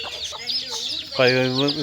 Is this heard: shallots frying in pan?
no